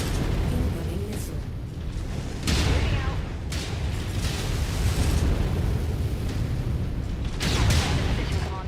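Missile explosions in the MechWarrior 5 video game during a fight with a Thunderbolt heavy mech, giving a dense, rumbling battle roar with repeated booming impacts and bursts spread through it.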